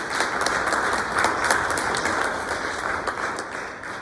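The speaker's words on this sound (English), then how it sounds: "could I ask for a round of applause for the folks who helped put together the beautiful food and all the arrangements here" A school meeting audience gives a round of applause, steady dense clapping from many hands, moderately loud and continuous without talk.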